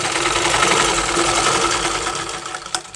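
Sewing machine running continuously as it stitches a blouse, a fast, even mechanical whir close up that slows and stops at the end.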